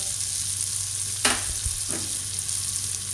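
Curry leaves and spices stirred through hot oil for Bombay potatoes, a steady close sizzle with a brief scrape of the spoon partway through.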